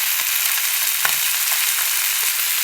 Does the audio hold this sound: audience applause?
no